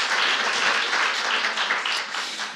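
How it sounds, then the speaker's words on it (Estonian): An audience at a medical conference panel claps in a brief, dense round of applause that holds steady and then begins to fade. "alguses suur aplaus Mari-Liisile"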